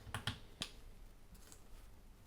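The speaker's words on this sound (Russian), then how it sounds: "Обратно вставляем кейкап." A keycap is pushed back onto a switch of a Dark Project KD-2 60% hot-swap keyboard with optical Gateron switches, giving a few quick plastic clicks up close, followed by fainter taps.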